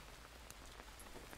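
Steady, dense rain falls in the jungle survival video game Green Hell, a continuous hiss of drops pattering on surfaces with scattered brighter taps, heard alone without talking.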